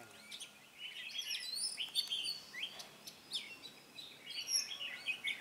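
Outdoors in Hoa Binh, an oriental magpie-robin sings in a rural setting, sending varied high chirps and whistled phrases in a continuous stream, moderately distant and fairly faint, with no voices over it.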